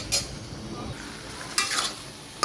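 A spoon stirs taro leaf curry in a pan, scraping and clinking in two short bursts with a soft sizzle underneath and quiet gaps between.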